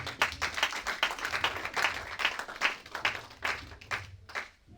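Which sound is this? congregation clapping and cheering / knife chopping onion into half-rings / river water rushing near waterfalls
congregation clapping and cheering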